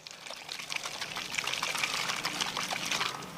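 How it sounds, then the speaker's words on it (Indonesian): A closed container of plant pesticide powder mixed with water is shaken, making a steady, fairly loud sloshing and rattling with rapid rhythmic pulses. "Kemudian kita campurkan dengan air, tutup. Kemudian kita kocok"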